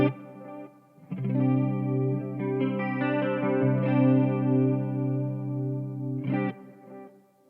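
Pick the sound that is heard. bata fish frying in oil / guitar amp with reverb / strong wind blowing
guitar amp with reverb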